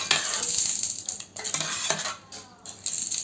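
A metal spoon stirs idli sambar in a pot, scraping and clinking against the sides in quick, close, continuous strokes with a few short pauses.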